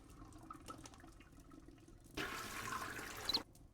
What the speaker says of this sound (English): Кнопка слива.